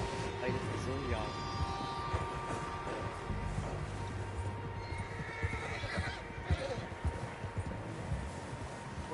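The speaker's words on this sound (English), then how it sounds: "Horses, quite a few of them." Several horses in the Red Dead Redemption 2 video game neigh and whinny over a steady clip-clop of hooves, with voices talking across the scene.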